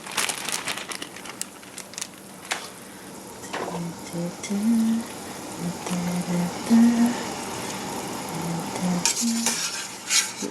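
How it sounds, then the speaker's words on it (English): Pieces of broccoli and cauliflower tumble and clatter into a metal pot with rustling and scraping, a steady low hum underneath, no talking. "Next, we have our broccoli and cauliflower. Let me put those in."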